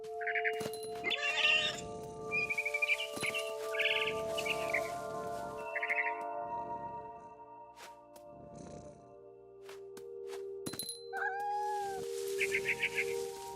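A cat meows and caterwauls repeatedly in drawn-out calls, with game music tones and brief chirps in the background, in the video game What Remains of Edith Finch.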